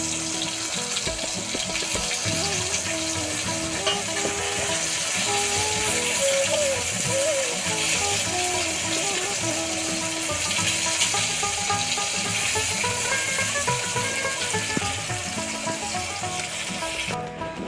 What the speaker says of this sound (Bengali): এদিকে আমাদের মাছ ভাজা চলছে।